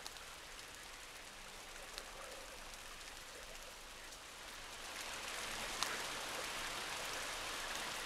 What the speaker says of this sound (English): I just sampled the rain and I looped it